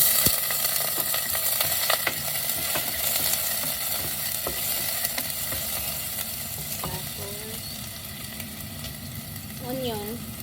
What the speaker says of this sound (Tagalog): mag-igisa na tayo ng garlic and onion, but before, lagyan ko muna ng konting oil, and then gisa-gisa